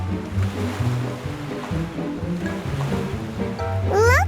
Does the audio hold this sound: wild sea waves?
yes